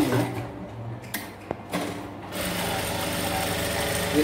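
A Jack F5 industrial sewing machine starts and stops in short mechanical bursts with a sharp click, then settles into a continuous, steady whirring hum that runs to the end, with no talk over it.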